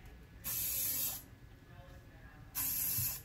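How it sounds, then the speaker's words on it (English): Hairspray sprayed onto hair while finishing a textured ponytail: two short bright hissing bursts from a nearby aerosol can, separated by a quiet pause. "Apply hairspray where you need."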